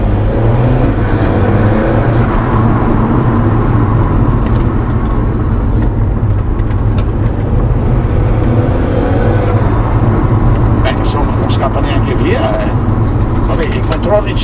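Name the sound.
Alfa Romeo 4C Spider accelerating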